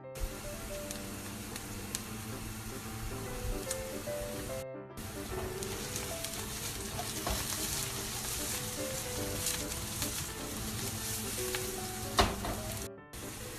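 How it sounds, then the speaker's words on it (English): Eggplant fries in olive oil in a pan with a steady, close hiss and crackle that runs without a break apart from two very brief cuts, plus occasional light stirring clicks; no speech. "We're going to add our eggplant here, and we're going to let it cook until it gets nice and tender."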